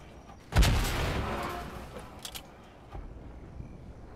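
In a video game, a single heavy gunshot booms with a long decaying rumble, followed by a fainter second report and a low tail, fairly loud and with no talk.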